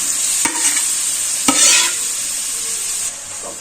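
Grated carrots sautéing in ghee in a pan for carrot halwa, giving a steady bright sizzle with a few sharp scraping knocks of a spoon stirring against the pan.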